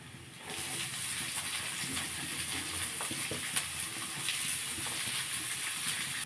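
Chopped onion frying in oil with a constant hissing sizzle that starts after a short pause and holds steady throughout, with faint stirring clinks.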